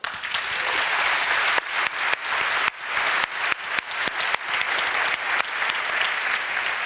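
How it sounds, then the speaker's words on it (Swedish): Audience applause after two party leaders, from the Centre Party and the Left Party, are introduced at a debate in Karlstad: dense, loud, steady clapping from a crowd lasting several seconds. "Ska vi ge dem en applåd?"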